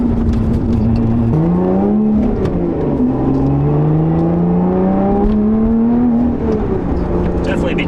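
A Lotus Evora 400 sports car driving through corners, its engine note close and loud as it rises and falls with shifting revs, and a voice talking over it.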